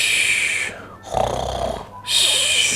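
A voice imitates Santa snoring in a bedtime Christmas story, giving one long, drawn-out snore that swells and fades between breathy hushing sounds, close and clear.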